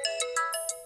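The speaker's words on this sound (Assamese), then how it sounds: "কাৰ ফোন আহিছে?" A phone ringtone plays a short, clear electronic tone pattern of several quick rising notes close by, with no talking.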